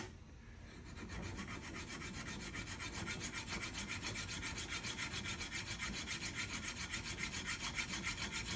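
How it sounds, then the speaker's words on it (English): A file rasps a burr off a handmade metal boxcar jaw harp in steady, rhythmic strokes, close and continuous, growing slightly louder after the first second. "Just take a little bit burr off this side"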